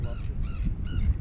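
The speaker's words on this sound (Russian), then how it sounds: "Сам ты ласточка, это чайка такая." A seagull by a pond calls three times in harsh, nasal caws, evenly spaced and fairly close over low background rumble.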